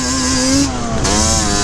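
A Yamaha Banshee ATV engine out at Dumont Dunes screams loud and close in a brief sustained rev, its pitch dipping briefly before climbing again, with no voices over it.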